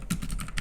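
A short burst of typing on a computer keyboard, four or five quick, close, crisp key clicks in a quiet room.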